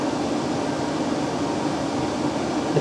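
A workshop air cooler running in fan mode makes a steady, loud broadband whoosh of moving air that stays even and unbroken from start to finish.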